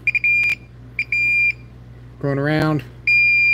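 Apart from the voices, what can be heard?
Klein or Ideal circuit tracer beeping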